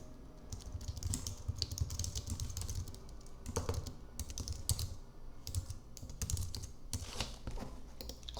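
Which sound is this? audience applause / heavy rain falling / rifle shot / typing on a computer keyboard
typing on a computer keyboard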